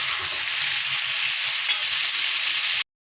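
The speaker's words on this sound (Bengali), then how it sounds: "তাহলে আলুটা ভাজা ভাজা হোক" Potatoes fry in a wok with a loud, dense, continuous hiss that fills the clip. The sound is close and stops abruptly at the end, with no talk.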